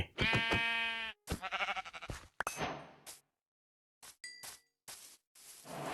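A pink sheep in the Minecraft video game bleats once at the start, followed by game clinks and dings in sharp, separate bursts with brief silences between.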